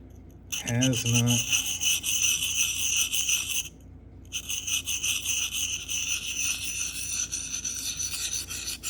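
Knife blade rubbed in small circles on a Sharpal field sharpener, producing a steady close raspy scraping that pauses briefly midway and then resumes, with a short low voice at the start.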